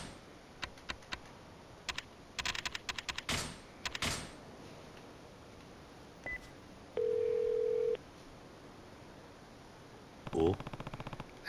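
Phone keypad buttons beep in quick taps as a number is dialed in the video game Yakuza Kiwami 2, followed by a single steady tone about a second long and more faint beeps.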